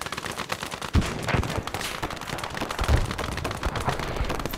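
A BT tank's main gun fires in the Gates of Hell World War II game amid a Soviet assault on an abandoned factory, with sharp booms cutting through dense, continuous battle gunfire at moderate loudness.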